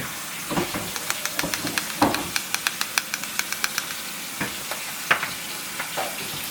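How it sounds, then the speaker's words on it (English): Butter melting and sizzling in a frying pan while a seasoned dish is prepared, a steady soft frying hiss broken by a run of light, evenly spaced clicks and taps of stirring, close and moderately quiet. "butter melting good at the bottom of the pan"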